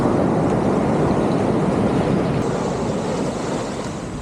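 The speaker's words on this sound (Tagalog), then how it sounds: "Yan guys, malalaki ng alon." Big ocean waves crash and roar continuously on a beach at Dingalan, a loud, dense wash of surf mixed with wind buffeting the microphone, easing slightly toward the end.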